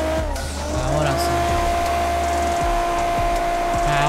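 Tires squeal in a racing video game as a modified Nissan Skyline takes a corner, a sustained engine drone and tonal screech running loud and steady throughout with bursts of skid noise.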